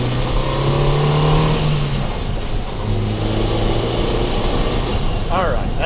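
A Saab 9-3 Viggen accelerates under turbo boost, its engine droning loud and near from inside the car, with the pitch climbing and settling. A voice speaks briefly near the end.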